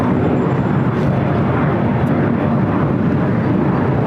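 Lufthansa Boeing 747 being moved on the ground at LAX, a loud, dense, constant low rumble of jet engines and rushing air, close and unbroken across the whole stretch.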